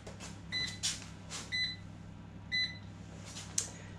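Short electronic oven timer beeps sound in a regular run of about four bursts to mark the end of an hour's cooking of a Roman patina in an oven dish, over a steady low kitchen hum.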